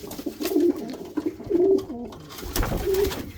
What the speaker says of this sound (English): I'm really just going to focus on my one loft pigeons.